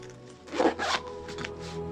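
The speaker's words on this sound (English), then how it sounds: "Has 1 zipper." A zipper on a neoprene paintball barrel case is pulled in a couple of quick close strokes, rasping briefly over a quiet room hum.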